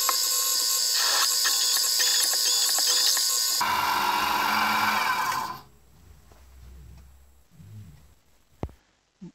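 A drill bit opens out a hole to 10 millimeters in a microscope stand mount part, a steady loud whirring grind for several seconds that stops abruptly, followed by quieter handling clatter and a faint click.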